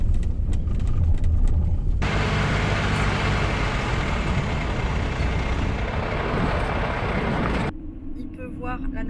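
A Mercedes Sprinter 4x4 van drives along a desert track in the Monegros, its engine and tyre rumble a loud, steady roar from inside the cab, with brief quieter stretches at start and end.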